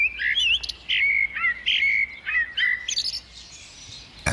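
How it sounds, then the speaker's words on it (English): A male blackbird sings in a garden, a run of clear, fluting whistled phrases broken by short pauses, close and distinct over a quiet background. "between feeds, the males sing their heart out, like the familiar blackbird"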